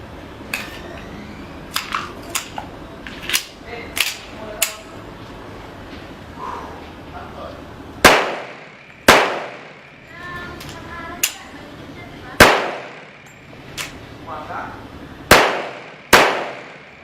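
Sharp gunshots from a 1911 pistol during a torture test, a loose cluster of smaller cracks followed by several loud, widely spaced shots with ringing decay, each standing alone with no talk.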